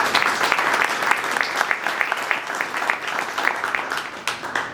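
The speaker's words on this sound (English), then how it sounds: "So one more round of applause for them, please." An indoor crowd at a gathering for museum volunteers gives a sustained round of applause, many hands clapping densely and evenly at moderate loudness for several seconds.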